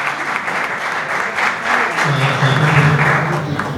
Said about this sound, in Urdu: تو بہت ساری تالیاں اور بہت سارا شکریہ